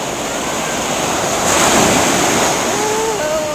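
Pacific Ocean surf at Santa Monica pier washes in as a steady broad hiss of breaking waves with wind buffeting the microphone, swelling briefly midway; no voices are heard.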